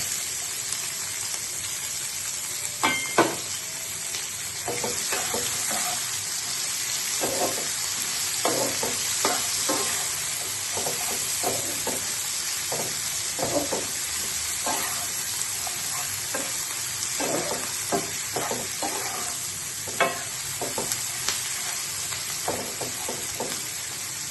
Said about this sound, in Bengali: পেঁয়াজটা এবার আমি ভেজে নেব।